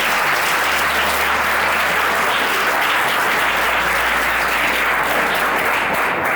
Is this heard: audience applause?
yes